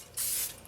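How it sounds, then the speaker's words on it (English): Vegetable cooking spray hisses from a can into a bundt pan in a one-second close burst, with a soft click before and after. "I'm just going to spray down my bunt with a little bit of vegetable spray"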